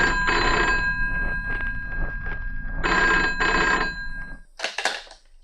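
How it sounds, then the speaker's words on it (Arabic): An old-style telephone bell rings in repeated bursts with short pauses between them, loud and close. After the last ring comes a faint clatter, as if the receiver is picked up. "تليفون"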